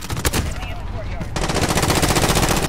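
An MP5 submachine gun fires in the Modern Warfare video game, with a short shot followed by a long rapid automatic burst, loud and close, under faint talk.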